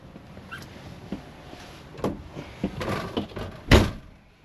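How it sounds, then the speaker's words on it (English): A door on a 2024 Host Cascade truck camper swings shut with a sharp, loud thump near the end, after a few quieter knocks and rattles inside the camper. "sorry, closing the door"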